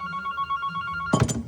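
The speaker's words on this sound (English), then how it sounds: "Oh, needs me answer the phone." A telephone rings with a steady electronic bell tone throughout, loud and close in a workshop, with a brief clattering burst near the end.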